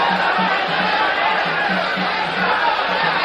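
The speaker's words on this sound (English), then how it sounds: "The crowd responds to Escalera's resurgence in the last 2 rounds with cheering, concerted cheering" A boxing crowd cheers and chatters through round 11, a dense, constant roar of voices with a rhythmic concerted chant pulsing beneath it.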